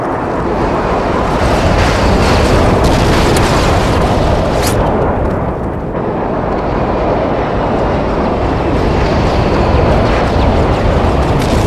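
Stealth airstrike bombs explode in Modern Warfare 3, a loud, continuous roaring rumble of blasts that fills the whole stretch with a brief lull midway, dense and close.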